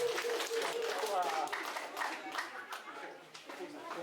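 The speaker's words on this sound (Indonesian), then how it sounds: "kita berikan aplaus yang meriah untuk mereka berdua" An audience applauds two young presenters at an event on processing waste into Sova, a soft, fairly distant patter of clapping with voices talking over it throughout.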